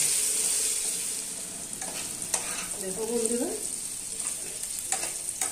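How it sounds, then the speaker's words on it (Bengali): Boiled potatoes frying with turmeric in a pan, a close steady sizzle broken by scraping stirs and clinks of a spatula, with a brief spoken remark over it. "আলুটা ভালো মতন ভেজে নেব।"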